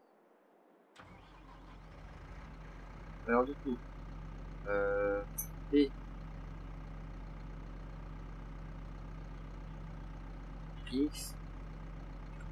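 A tractor engine in Farming Simulator 22 cranks and starts abruptly, then settles into a steady low idle that runs throughout, with a few brief clicks and tones and someone talking briefly over it.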